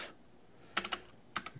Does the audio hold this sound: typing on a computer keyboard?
yes